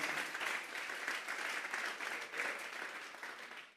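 A church congregation claps steadily in sustained, dense applause during a worship service, fairly distant and even, fading out at the end.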